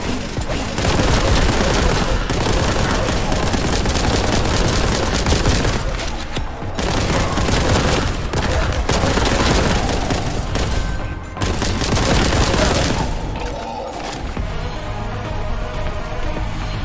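Rapid, sustained bursts of gunfire from a weapon in the video game Warhammer 40K Boltgun roar loud and dense across the whole stretch, with brief lulls between volleys and layered explosive booms.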